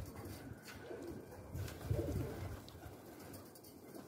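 Pigeons coo softly in low, throaty bursts, fairly quiet and close, with faint background noise and no talking.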